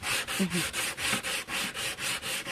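Rhythmic back-and-forth scraping of sandpaper on wood while building a hanging cabinet, about a dozen even strokes in steady succession, close and clear with no talking.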